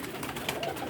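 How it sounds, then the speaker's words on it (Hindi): Pigeon softly cooing over steady low background noise, a high-flying racer-type bird sitting on its nest raising chicks, the murmuring coo continuous and fairly faint throughout. "ये भी बड़ा शानदार कबूतर है"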